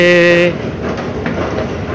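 A train at Maluri MRT/LRT interchange station in Malaysia: a loud, steady harmonic tone holds for about half a second, then cuts off and gives way to a quieter, rumbling station noise.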